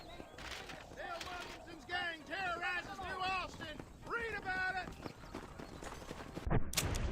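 Horse hooves galloping in Red Dead Redemption on Xbox Series S, a steady rhythmic clip-clop beneath game voices and wind, ending with a sudden louder burst.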